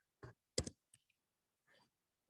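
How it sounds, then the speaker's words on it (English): A few quiet, isolated clicks of a computer keyboard key being pressed, close and sparse in an otherwise silent room. "I hit the tab key."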